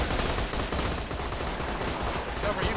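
Rapid gunfire in the video game Borderlands 2: dense, continuous bursts of shots filling the clip at a steady, fairly quiet level, with no talk.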